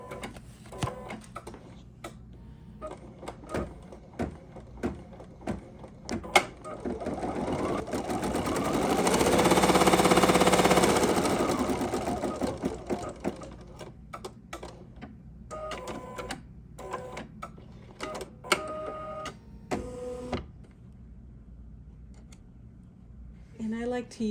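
Embroidery machine stitching a practice sampler block, a rapid mechanical whirring and clicking that swells louder in the middle, with scattered handling clicks around it.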